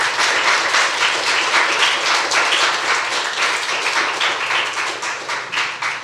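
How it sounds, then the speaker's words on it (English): A conference crowd applauds steadily and loudly after a closing keynote, dense clapping sustained throughout with no voices over it. "I want to give you a round of applause again."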